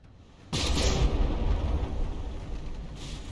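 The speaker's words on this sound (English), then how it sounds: "Zvinvoshar firing first with its quad-barreled turrets there" Quad-barreled battleship turrets in From the Depths open fire with a sudden loud boom, followed by a sustained rumbling roar that slowly fades, with a second blast near the end.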